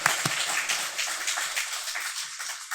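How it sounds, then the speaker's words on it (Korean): A church congregation at Sunday worship stands and claps in encouragement, brisk dense applause at even volume throughout, with no voices over it. "우리 격려의 박수 잠깐 일어나시고 우리 격려의 박수 한번."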